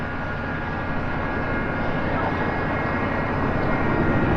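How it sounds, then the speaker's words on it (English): A camper van's engine idles while warming up on a cold winter morning at a campground, a steady low drone heard from nearby. "Let the engine warm up a bit before we take off here."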